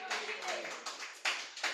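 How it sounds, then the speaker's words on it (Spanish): Church congregation clapping during a Spanish-language service, a quiet spatter of uneven hand claps coming in short bursts, with background voices mixed in. "¿Cuánto podemos darle una ofrenda de aplausos al Señor?"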